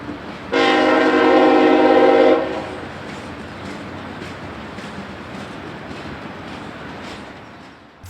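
A B&OCT freight train, job Y126, sounds a loud, sustained chord horn for about two seconds close by, then the train rumbles and rolls on steadily alongside the track before fading slightly.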